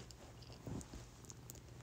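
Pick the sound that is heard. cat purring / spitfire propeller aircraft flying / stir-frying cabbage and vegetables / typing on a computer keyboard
cat purring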